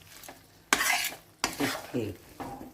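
Ragi flour mixture being stirred and roasted in a pan for finger-millet laddoos: a few bursts of scraping and stirring with faint sizzling, close by, with no voices.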